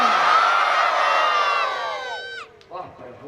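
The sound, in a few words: crowd cheering and shouting loudly with applause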